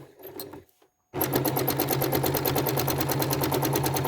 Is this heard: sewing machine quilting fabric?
yes